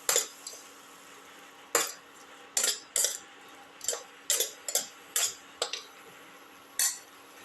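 Metal utensil scrapes and clinks against a pot in irregular bursts, stirring a thick chicken and potato mixture with salt at close range, quiet pauses between strokes.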